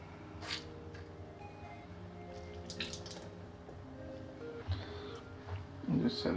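Water wrung out of the soaked ear pads of Philips SHP9500 headphones, dripping and squishing in a few soft, scattered drops with a wetter squeeze near the end, faint and close.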